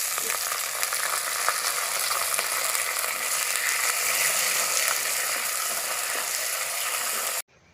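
Shallots, curry leaves and dried red chillies frying in hot oil for Kerala sambar, a dense continuous crackling sizzle that holds steady and close for several seconds before stopping abruptly.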